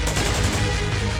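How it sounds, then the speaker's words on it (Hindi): Gunfire and shelling on the Line of Control, a dense, loud barrage of rapid shots and booms blending into a continuous roar over about a second, with no voices. "कभी LOC पर हमले, फायरिंग और गोलाबारी"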